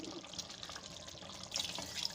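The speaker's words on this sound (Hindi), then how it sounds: "हम उसके अंदर गर्म पानी ऐड करेंगे, ताकि फ़ौरन हमारा सालन जो है वो रेडी हो जाए।" Hot water is poured into a pan of kofta curry, giving a steady close splashing and trickling pour that builds slightly louder toward the end, with no talk.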